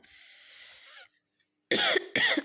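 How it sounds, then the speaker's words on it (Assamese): Two sharp, loud coughs close by, after a soft steady hiss fades and a brief silence. "বাপৰে ইমান কাহ হৈছে মোৰ।"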